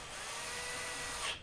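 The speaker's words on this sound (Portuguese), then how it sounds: "eu vou também fazer um furinho e pôr um parafuso de cada lado" A power drill whines steadily while boring a small screw hole into a Heineken keg, a brief, close, continuous high-pitched buzz.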